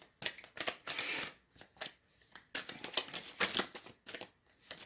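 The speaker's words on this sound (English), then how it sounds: "It's enough shuffling, I think." Tarot cards being shuffled in repeated quick riffles and bursts, close and crisp, with short pauses between, no talking.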